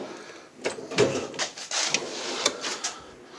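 A tool box drawer slides and knocks with several sharp clacks and rattles at close range, as metal drawers are pulled open and pushed shut in quick succession.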